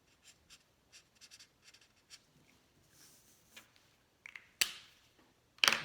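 A marker scratches out a signature on a drawing of sunflowers, a series of short, quiet strokes and squeaks in an irregular rhythm, ending with a few louder taps close by.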